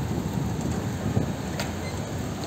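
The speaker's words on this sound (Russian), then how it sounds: "пока я была в магазине, начался дождь" Steady rain falling outdoors near a shop, a dense, even hiss with low rumbling underneath and faint wind noise, continuous and fairly loud with no voices.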